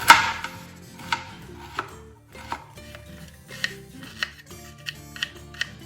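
A knife chopping mushrooms on a board, sharp regular cuts repeating about once a second, close and fairly clear, with faint kitchen background underneath.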